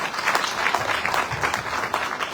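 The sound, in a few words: audience applause for the panel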